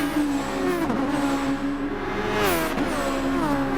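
Open-wheel Super Formula race car in Gran Turismo Sport at Bathurst, its engine holding a steady high drone that dips and rises through quick revs, loud and close with no talk.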